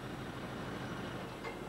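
A merry-go-round coal train creeps toward the loading bunker at walking pace, giving a steady low rumble and rolling drone that stays even throughout, with no voices.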